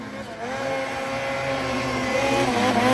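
A Ski-Doo snowmobile with a 154 track climbs a snowy chute, its engine holding a loud, steady, high droning whine without a break.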